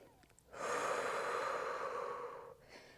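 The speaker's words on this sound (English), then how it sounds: "Breathing in through the nose" One long, deep inhale through the nose during a Pilates workout, a close breathy rush that swells quickly, holds steady for about two seconds, then fades into quiet.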